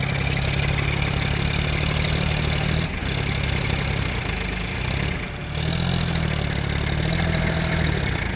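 Tractor engines idle and run with a loud, steady mid-pitched rumble, briefly dipping twice before settling back into a constant drone, with no voices.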